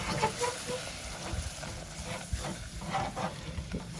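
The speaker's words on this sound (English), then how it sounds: "Now we're just going to cook our flour" Flour being stirred into liquid in a pan over medium heat on a stove, cooking into a dough ball; soft scraping stirs with a faint sizzle, steady and close, no talking.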